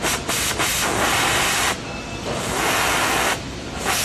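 A steady, harsh oxy-acetylene cutting torch flame hiss close up, surging and dipping in strength a few times without letting up.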